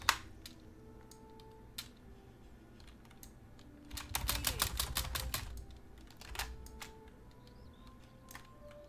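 Computer keys are tapped during a Wizard101 session, scattered single clicks followed by a fast burst of repeated presses on the spacebar, then more sparse taps, close and fairly faint.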